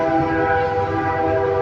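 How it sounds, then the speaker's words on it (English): A passing train sounds a loud, sustained horn close by, a steady chord that holds throughout over the low rumble of the rail cars. "Oh, there's a train."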